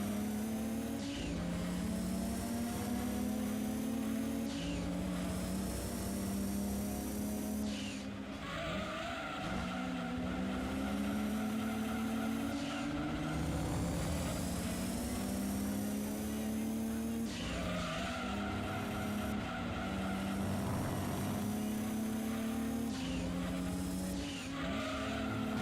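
A Nissan Primera race car accelerates away in Gran Turismo 2, its engine whining and rising through the gears alongside other race cars, with tire squeal and steady loud racing noise throughout.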